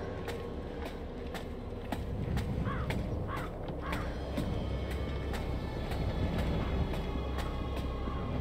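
Subway train in Resident Evil 3 Remake, a steady loud rumble of rail cars with rhythmic clicks and metallic squeals running throughout.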